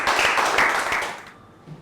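A short round of applause from a few people in a class, a brief burst of clapping that fades out within about a second and a half.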